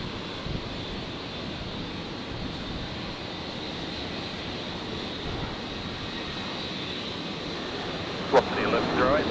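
An aircraft taxiing at Brisbane Airport gives a steady, broad engine roar that holds constant, with a brief sharp click and a slight swell near the end.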